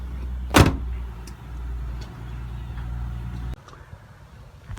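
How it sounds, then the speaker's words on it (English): A 2003 Ford Thunderbird Deluxe's black soft top being raised: a steady electric motor hum runs under a sharp click near the start, then a latch clunk as the roof settles and the motor note changes. "I'm going to put the soft top up so you can have a look at that"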